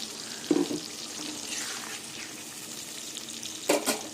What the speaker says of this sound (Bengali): এবার আমি মশলা দিয়ে কষিয়ে নেব